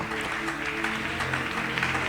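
A church congregation claps together during a worship service, a dense continuous patter of applause with some tonal music or voices running underneath.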